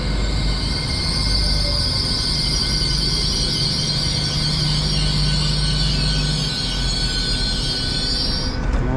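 Train 802-217 runs on diesel from Berwick toward East Linton, a loud steady rolling rumble heard from on board with a high whine and hiss throughout that fades near the end, no voices.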